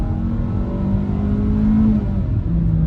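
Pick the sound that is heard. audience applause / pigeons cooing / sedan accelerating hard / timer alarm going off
sedan accelerating hard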